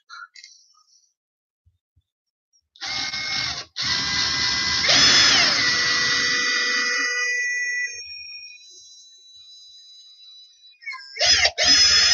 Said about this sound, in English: that should be safer to drill now